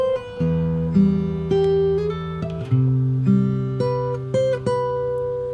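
Fingerstyle acoustic-style guitar plays a bar from a song, with sustained chords, a slide up and back on the second string, and a bell-like harmonic left ringing, all picked cleanly and closely with no talking.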